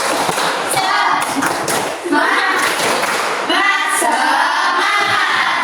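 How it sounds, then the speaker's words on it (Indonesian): A school class doing a rhythmic spirit clap (tepuk semangat) in a classroom: many hands clapping in patterned bursts, loud and close, mixed with children's voices and chanting. "Oke, tepuk semangat."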